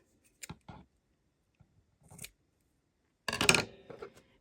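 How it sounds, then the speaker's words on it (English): A few quick scissor snips through yarn, soft and close, separated by short pauses, with a louder crisp cut near the end. "Take your scissors, cut your little excess off there."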